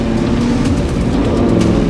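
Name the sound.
new Toyota Landcruiser four-wheel drifting in desert sand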